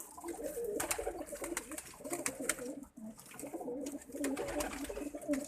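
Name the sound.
pigeons cooing in a loft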